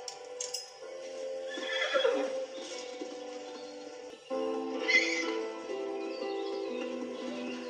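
A horse neighs and whinnies repeatedly just outside a stable, its calls close and clear with harmonic whinnying bursts and faint hoof clops underneath, no talking.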